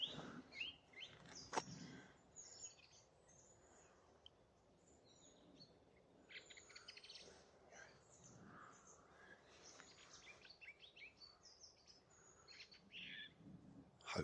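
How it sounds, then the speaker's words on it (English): Song thrush singing somewhere behind the listener on a local nature patch in East Tilbury, its varied phrases faint and distant against a soft outdoor background. "Song thrush singing just over the back here."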